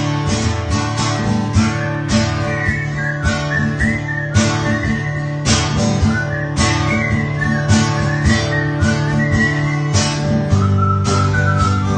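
Someone whistles a wavering tune over steady backing music with a regular beat, the melody rising and falling in short phrases.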